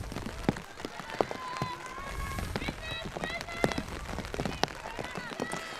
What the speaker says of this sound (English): As it is pouring down now here in Calgary.